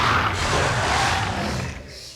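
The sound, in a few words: Austroraptor dinosaur aggressive roar, from video game The Isle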